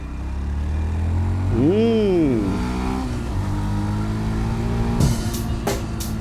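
A motorbike engine hums steadily up close, with one rev that swells and falls back, over rushing road noise.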